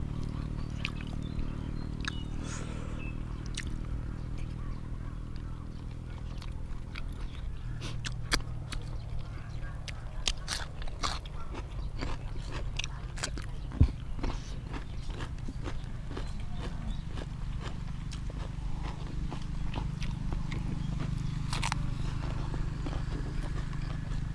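Chewing boiled chicken with fish sauce outdoors by a rice field, soft wet mouth clicks and bites repeating irregularly over a low steady background hum.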